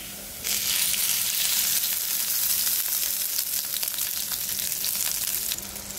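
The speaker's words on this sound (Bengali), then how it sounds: "এই চুলায় বোয়াল মাছটা ভুনা করে নিব। পেঁয়াজ দিয়ে দিব, তেল দিব পরিমাণ মতো।" Onions hit hot oil in a pan on a stove, bursting into a loud, bright sizzle that holds steady for several seconds, as boal fish is being cooked down.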